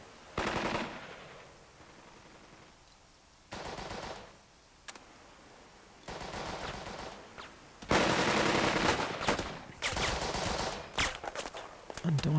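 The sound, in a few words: suppressive gunfire in the video game Burden of Command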